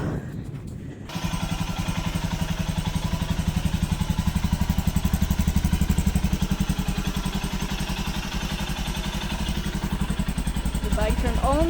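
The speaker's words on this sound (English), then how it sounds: "The bike turned on, fingers crossed." A Royal Enfield motorcycle engine starts up after a moment of quiet and settles into a steady, close, thumping idle with a rapid even rhythm that runs for about ten seconds.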